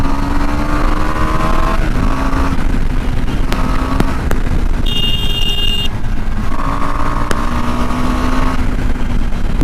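A KTM Adventure 390 motorcycle accelerates through the gears, its engine note rising in repeated close, loud sweeps with short gaps for shifts under rushing wind.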